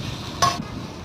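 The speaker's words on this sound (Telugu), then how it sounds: "ఫ్రై అయిపోతుంది." Food cooks in a pan for gaur chukudu masala curry, a soft steady sizzle broken by one brief scraping stir near the middle.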